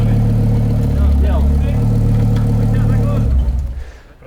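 A freshly restored Audi S4 engine runs steadily at its first start, a loud, close mid-pitched drone with a slight rev, then cuts off and fades near the end.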